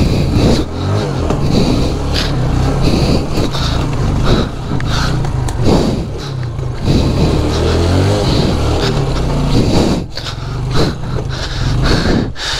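A motorbike engine revs and strains on a slippery hill road near Sandakpur, Ilam, loud and close with repeated surges and dips in throttle, wind and road noise mixed in.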